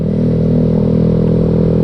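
A Yamaha Mio Sporty motorcycle is being ridden, its engine a loud, steady, close-up drone that holds an even pitch throughout.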